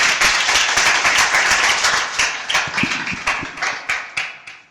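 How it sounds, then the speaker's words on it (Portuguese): A church congregation claps together, loud and close at first, then breaking into sharper, distinct rhythmic claps that fade toward the end. "Dê uma linda salva de palmas ao Senhor"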